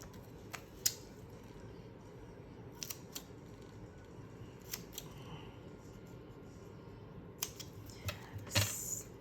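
Scissors snip through cardstock for a handmade Stampin' Up! Halloween card, a few sharp isolated cuts spread across a quiet room with soft handling noise between them and a louder final snip.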